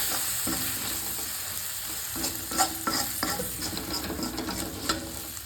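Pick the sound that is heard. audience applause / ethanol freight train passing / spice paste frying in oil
spice paste frying in oil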